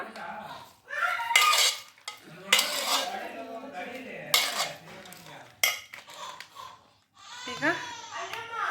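Thick curd is mixed into cooked rice for curd rice, a spoon clinking and scraping against the vessel in short bursts while people talk nearby.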